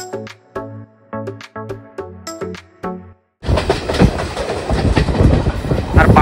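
A passenger train on the North Bengal line in West Bengal rumbles and rattles loudly along the rails, preceded by a short run of ringing, chime-like musical tones.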